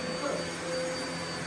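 A vacuum cleaner with a motorised brush-bar head runs over medium pile carpet, giving a steady, close, loud whirring drone with no breaks.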